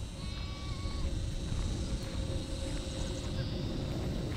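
Goats bleating on a farm in Ha Giang, Vietnam, with steady calls rising over a dense, continuous backdrop of farmyard noise throughout.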